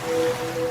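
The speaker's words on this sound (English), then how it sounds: "now you're drifting asleep to the scent and sound of waves" Soft, washing ocean waves surge in a gentle continuous swell, a smooth sound effect running steadily under a faint tonal hum.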